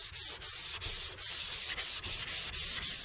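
Hand sanding of guide coat and base coat on a 1972 Chevy Nova body: rhythmic back-and-forth rasping strokes, about eight regular passes with brief gaps between them, close and alone.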